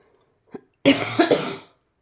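A faint throat sound followed by a single harsh, loud cough burst, close up, then silence.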